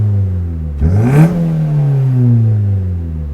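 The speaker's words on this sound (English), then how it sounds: "I can definitely hear a little bit of the induction noise" A Mazda2 fitted with a DDM Works short ram intake revs hard from idle: a sharp rising engine howl with strong induction noise that peaks, then falls back to a steady, droning idle close by.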